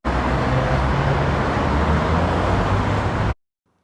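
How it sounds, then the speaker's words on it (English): Generated city traffic ambiance: a dense, steady roar of road traffic with a low engine rumble, loud and continuous for over three seconds before cutting abruptly to silence. "let's type city, traffic, and ambiance"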